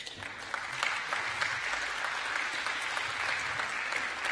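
Sustained audience applause at a conference wrap-up session, a dense, even clapping from a sizeable crowd that holds steady throughout with no voices over it.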